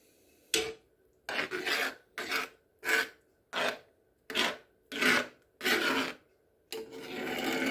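A spoon scraping the sides of a pan of sawmill gravy made with flour, giving eight rasping strokes in a steady rhythm, close and clear with short pauses between them.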